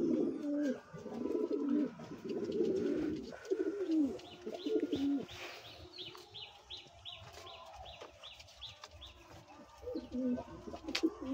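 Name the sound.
satin and Lakka pigeons cooing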